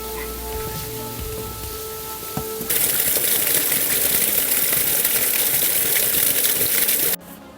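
Rushing water of the underground Acheron river inside a grotto in Sofiyivka Park, a loud, steady broadband gush that starts abruptly after quieter ambience and cuts off sharply near the end.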